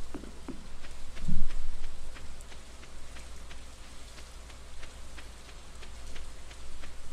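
Rain falls in the video game Stardew Valley, a steady soft patter with scattered sharper drip ticks and a low constant hum beneath, one brief louder thump early on, and no talking.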